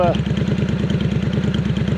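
A Triumph Scrambler motorcycle fitted with a Hitchcox exhaust ticks over at idle, a close, steady, rhythmic low thumping engine note with a brief voice at the start.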